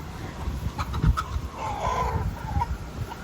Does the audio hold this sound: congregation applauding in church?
no